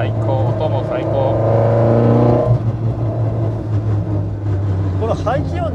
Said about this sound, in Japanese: この排気音じゃなくて吸気音が大きいっていうのはちょっといいよね。